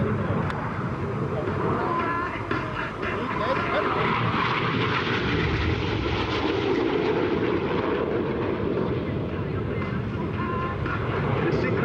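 RAF Red Arrows jets flying an air show display: a continuous, loud roaring jet rumble that carries through the whole stretch, with a voice talking over it throughout.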